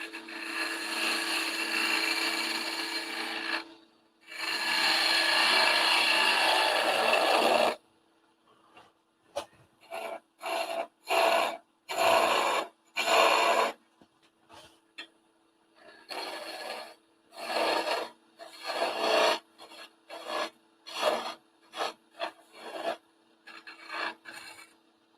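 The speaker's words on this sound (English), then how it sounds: "let's get a skew, and we'll skew this off a little bit." Scraping, rasping bursts of a skew chisel cutting a small wood Christmas tree on a lathe: two long passes, then many short, choppy cuts starting and stopping at close range.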